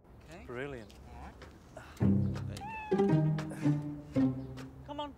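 Several drawn-out cat meows from a house cat, loud and close, with a voice speaking softly early on before the wailing calls take over.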